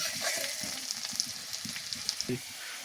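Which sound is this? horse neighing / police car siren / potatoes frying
potatoes frying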